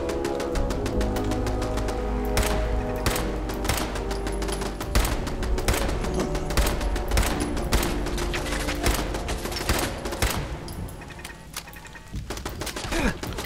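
Rapid gunfire in Fallout 4 at the Corvega Assembly Plant, dense bursts of loud automatic and single shots crackling almost continuously, close and sharp, with brief lulls between volleys.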